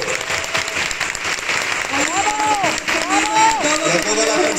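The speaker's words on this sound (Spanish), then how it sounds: "Un aplauso" An audience at a piano performance applauds the teacher, with steady dense clapping and some crowd noise while a voice talks over the second half.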